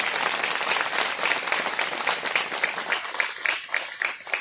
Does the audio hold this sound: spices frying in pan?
no